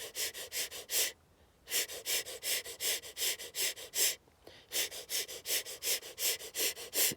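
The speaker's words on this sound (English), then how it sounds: "I'm just blowing air in and out through this compressed area, this valve, which is your mouth" Rhythmic, gentle pulses of air blown in and out through pursed lips as a vocal breathing exercise, about a dozen short breathy puffs at a steady pace with two brief pauses, close and clear with no talking.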